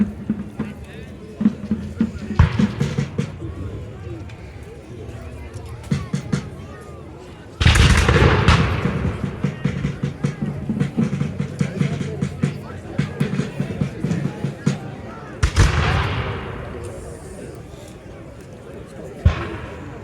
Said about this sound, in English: Continued rapid fire between British and American forces.